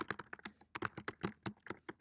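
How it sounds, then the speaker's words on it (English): Quick, uneven clicking of keys on a computer keyboard as an essay is typed, close and crisp, a dozen or so strokes in a brisk rhythm with no voices. "you're going to start typing your essay"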